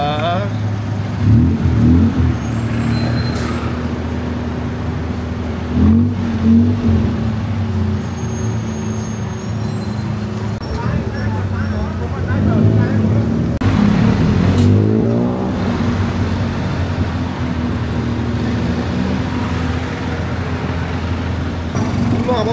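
A tuk-tuk's engine drones steadily through a ride in Bangkok, a loud low rumble with brief revving swells, heard alongside surrounding traffic.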